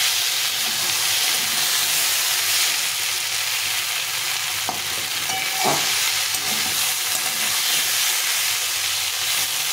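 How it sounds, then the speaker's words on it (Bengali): A whole tomato stir-fried in a pan of oil for a bitter gourd fish curry, giving a steady, loud, close sizzle with a few brief spatula scrapes partway through, and no voices. "এইভাবে একটু নেড়ে চেড়ে কষিয়ে নিতে হবে"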